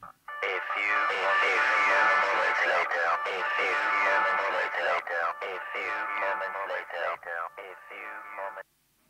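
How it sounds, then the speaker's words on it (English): Speech processed with an added echo effect in DaVinci Resolve, a voice talking continuously with repeating reverberant tails that trail off at the end. "And then simply maybe add the echo back in."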